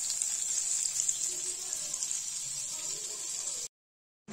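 White oil and butter sizzle on a hot griddle pan over a gas flame, a steady bright frying hiss that cuts off abruptly near the end and then briefly returns.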